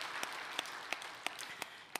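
A church congregation at a Christmas-season Sunday service claps in a sparse, fairly faint, distant-sounding patter, with a few sharper, evenly spaced claps standing out.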